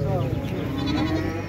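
Goats bleating among the crowd at Benupur village livestock market in Kaliakair, Gazipur, with traders haggling; the animal calls stay close and steady under continuous talk and bustle.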